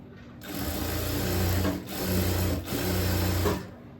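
A sewing machine runs in three quick bursts of loud, steady whirring, brief pauses between them, as it stitches along the folded edge of a blouse.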